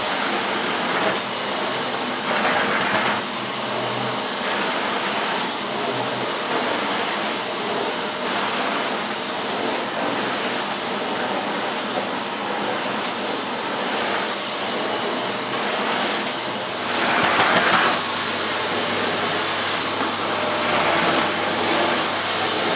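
A Wellco CV16 vacuum cleaner picks up dirt from a carpet, giving a loud, continuous whooshing roar that swells and dips slightly as it moves, with gritty debris rattling through it.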